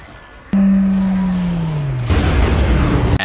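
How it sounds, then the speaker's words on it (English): The contact beam weapon in the Dead Space video game charges with a loud humming whine that slides down in pitch, then releases a roaring, crackling blast that cuts off abruptly. "The contact beam."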